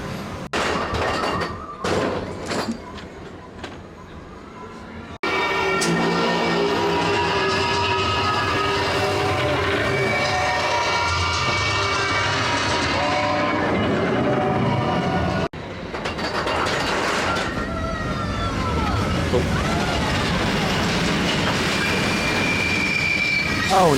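A ride train at Disney's Animal Kingdom rolls along loudly with rumbling wagons and sustained high metallic wheel squeals, some clicks and bumps at the start and a continuous close roar after.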